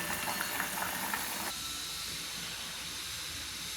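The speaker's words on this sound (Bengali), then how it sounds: "দেখুন টকটা কেমন ফুটছে" A pot of rohu fish sour curry boils steadily, giving a continuous close bubbling hiss with no talk over it.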